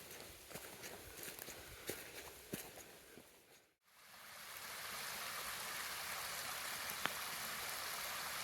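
Creek on a forested hiking trail, a steady soft rush of flowing water that grows fuller after a brief dip, with scattered footsteps on rock and gravel in the first half.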